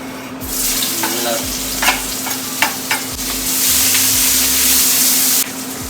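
Spices (turmeric, salt, cumin powder and chilli) stirred and sizzling in a hot pan while cooking lamb shank, with loud continuous frying hiss and several scraping stirs up close.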